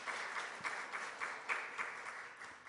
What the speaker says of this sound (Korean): 우리 하나님께 우리 감사 영광의 박수 드리면 좋겠습니다.